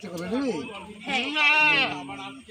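A goat bleats in two wavering, nasal cries close by, the second longer and higher, with a livestock setting around and no speech over it.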